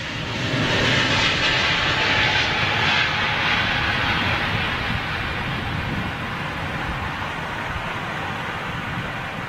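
An Airbus A320neo takes off at Heathrow, its engines a loud, broad, steady roar that holds through the whole stretch and eases off only slightly toward the end, with no voices over it.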